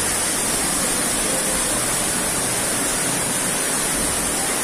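Seloprojo (Sumuran) waterfall roars in a steady, dense broadband rush, close and loud throughout with no voices.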